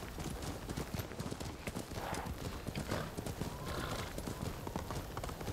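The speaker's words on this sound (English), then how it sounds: "We're on someone else's horse." Horse hooves pound rhythmically at a gallop in the samurai video game Ghost of Tsushima, a fast steady clip-clop with a brief neigh, close and clear over faint game ambience.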